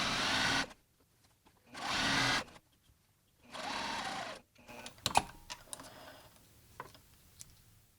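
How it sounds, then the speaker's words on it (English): A sewing machine stitches a pants side seam in three short bursts, each about half a second to a second long, followed by small clicks and handling sounds of a back tack, close and alone. "I also like to do a little back tack when I get here to the side seam."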